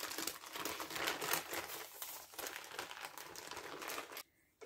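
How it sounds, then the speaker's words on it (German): Baking paper is slowly peeled from the bottom of a cooled strawberry mascarpone sponge cake, giving close, continuous crinkling and soft tearing rustles that stop abruptly at the end. "Jetzt ziehe ich vorsichtig das Papier ab."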